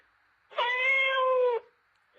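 Cat meow from a talking toy doll that imitates animal sounds: one sustained electronic meow lasting about a second, clear and isolated with silence on either side.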